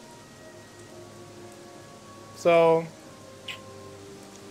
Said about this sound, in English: Gothic 3 doesn't have rain, but it does the rain sound.